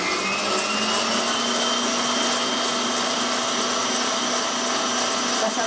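Electric mixer whirring continuously at high speed, beating egg yolks and sugar for tiramisu, loud and close with a steady whine throughout.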